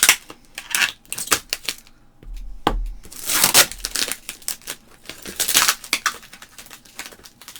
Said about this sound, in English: I'm wrestling with packing tape.